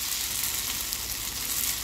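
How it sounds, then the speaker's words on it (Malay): Kuey teow noodles with egg sizzle steadily in a hot pan as they fry until crispy, a dense, even crackle held at close range with no talking. "Kita goreng sampai dia garing"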